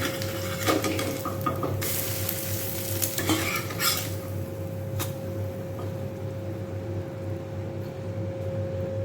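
An egg fries in a hot pan with a steady, close sizzle throughout, broken by a few scraping stirs of a utensil against the pan early on.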